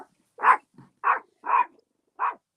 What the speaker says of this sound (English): What are the dogs barking at now?